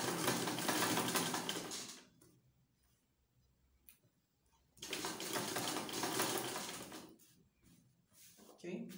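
A sewing machine stitches down a side pocket on trousers in two bursts of rapid, close-up whirring with a short pause between, then starts again briefly at the end.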